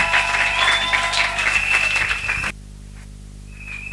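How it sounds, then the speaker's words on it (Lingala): A church congregation applauds in a dense, sustained wash of clapping over a tonal background, then the applause cuts off abruptly halfway, leaving a quiet room. "Acclamons pour la gloire de l'Éternel notre Dieu"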